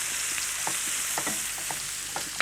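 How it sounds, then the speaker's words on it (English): Soaked short-grain rice fries in olive oil under a constant loud sizzle, with soft repeated scrapes as it is turned over in the pan, close up and without speech. "it's important now to turn all of this round so that the rice gets a good coating"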